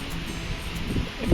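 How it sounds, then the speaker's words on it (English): Steady wind buffets the microphone with a low rumble and faint rustling of leaves on a hike, with a stronger gust toward the end; no one speaks. "It's a little windy"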